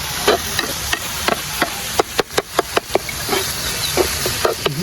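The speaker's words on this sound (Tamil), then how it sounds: "இப்போ வதக்கலாம் நல்லா" Vegetables with chili powder sautéing in a pan, steady sizzle with a string of sharp spatula taps and scrapes against the pan, close and fairly loud.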